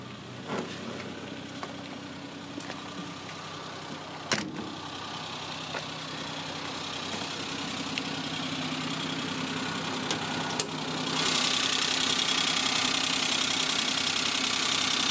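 A Suzuki F5A three-cylinder 550cc engine with an intercooler, in a 1989 Suzuki Jimny Samurai 4x4, idles steadily with a low, even hum heard up close under the open hood, a few faint clicks, and a brighter hiss rising near the end.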